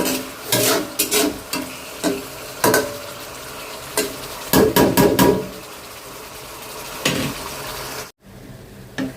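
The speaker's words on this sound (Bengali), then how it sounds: "মাছটা একটু কষাই নেব মাছটা আর ফুলকপিটা দিয়ে দেব" Fish and cauliflower being sautéed in a pan, a busy close sizzle under repeated sharp clanks and scrapes of a utensil against the pan, ending with a brief silence near the end.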